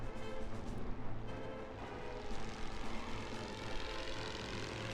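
A World War I bomber in a war video game drones steadily overhead, a dense continuous engine roar with faint rumbling gunfire mixed in, loud and unbroken throughout.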